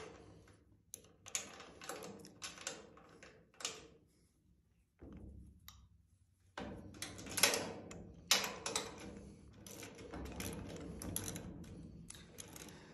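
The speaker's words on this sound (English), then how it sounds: "Remove this bolt." A bolt is worked loose from a kitchen oven's wheel assembly plate, giving close, irregular metallic clicks and ratcheting taps in quick clusters, with short quiet gaps and busier tool handling toward the end.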